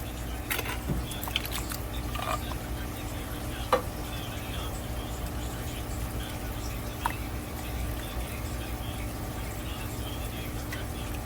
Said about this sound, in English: next we want to add in our diced green peppers and onions